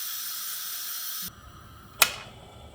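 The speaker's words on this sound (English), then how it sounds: "That noise lets me know that the little pressure thing is completely down" A loud steam hiss from a pressure cooker valve cuts off abruptly, followed by a single sharp click or clack as the pressure pin drops.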